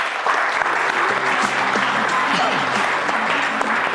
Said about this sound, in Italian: facciamo un applauso su questa